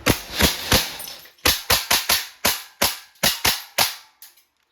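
A Crosman AK1 airgun firing in semi-automatic mode, a series of about fourteen sharp, close pops in quick, slightly uneven bursts with brief pauses between groups.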